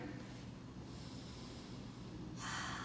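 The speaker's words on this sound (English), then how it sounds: "Let's take 2 more breaths here." Slow, deep breaths during a relaxed stretching session, a steady airy exhale followed by a louder, sharper inhale near the end, close to the mic over a soft background hiss.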